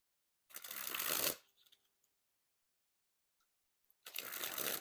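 A Black Smoke and Mirrors 15th Anniversary Edition playing-card deck being sprung from hand to hand: two crisp, rapid riffling bursts about a second long each, close up, with near silence between them.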